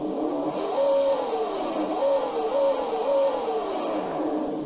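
Engine revving from a G.T. Power Bluetooth RC car sound and light simulator under throttle, a synthetic motor note rising and falling in three or four quick revs over a steady idle, loud and close with no talking.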